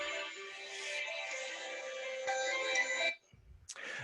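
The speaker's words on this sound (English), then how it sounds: "Apologies, my phone's going off." A mobile phone ringtone plays a bright, tonal melody that sounds loud and close for about three seconds, then cuts off abruptly, followed by brief handling noise and a short burst of sound.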